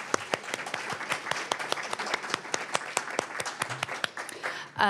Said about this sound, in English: I'd like to invite everyone for a round of applause for Jordan and Lisa Marie.